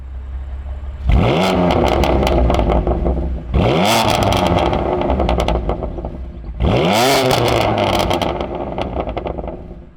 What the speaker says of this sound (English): fire it up and listen to what it sounds like with a couple of blips on the throttle